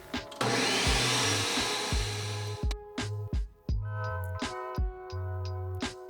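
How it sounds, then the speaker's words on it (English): A countertop blender whirs loudly through vegan salad dressing in one sustained run, then gives several short pulsed bursts with brief pauses between them. "And then we're gonna blend this baby up."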